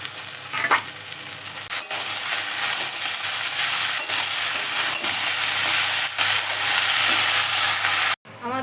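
Raw chickpeas, potato and eggplant fry in oil while being stirred, a loud, dense, continuous sizzle with occasional spoon knocks, cut off abruptly near the end.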